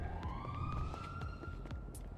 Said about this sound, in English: constant siren is pretty cool